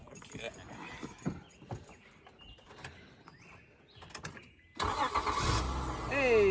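A 2001 Honda Accord V6 fitted with a replacement starter cranks and catches near the end, the engine rising into a loud, steady idle after a quieter stretch of shuffling and workshop noise.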